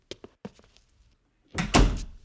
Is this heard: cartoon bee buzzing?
no